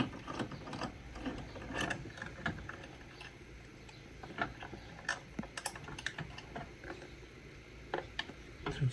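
Ratchet working on a bolt of a Honda FL5 Civic Type R intake: quick irregular clicking bursts and metallic taps, close and fairly quiet, with pauses between strokes.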